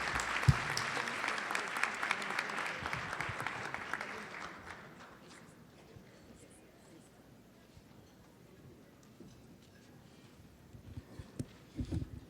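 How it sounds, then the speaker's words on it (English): A gala audience bursts into loud, dense applause that holds for several seconds, then thins and fades to scattered claps and quiet room murmur, with a few louder claps near the end. "I saw a lot of clapping there."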